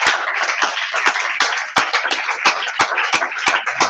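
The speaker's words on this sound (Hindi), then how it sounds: "एक बार अपने लिए जोरदार तालियां करें" A small audience gives emphatic rhythmic applause, sharp claps ringing close and loud over a softer bed of scattered clapping.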